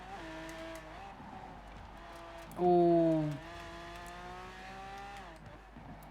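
A Lamborghini Miura SVJ with its V12 drives in Forza Horizon 4, a steady engine drone that rises into a loud, brief whine midway and then settles. A voice speaks faintly underneath.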